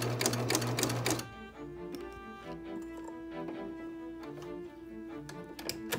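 A home sewing machine stitches a railroad zipper into fabric, its rapid mechanical chatter running steadily at close range after a brief louder burst of handling noise, with no talking.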